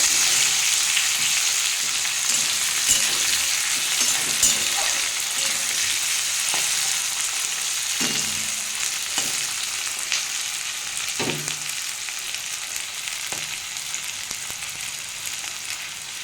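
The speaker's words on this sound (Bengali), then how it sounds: "দেখুন তেলের মধ্যে টমেটো আর পেঁয়াজটা দিয়ে দিয়েছি এটা আমি ভালো করে ভেজে নেবো" Chopped tomato and onion fry in hot oil, a bright continuous sizzle with occasional soft knocks of a spatula stirring, close up and gradually easing slightly over time, no talking.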